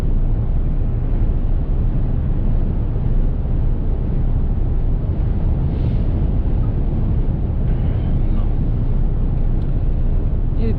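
Truck cab drive on the approach to Brno, Czech Republic: a steady low engine and road rumble with broadband wind noise, continuous and unchanging throughout, with no talking.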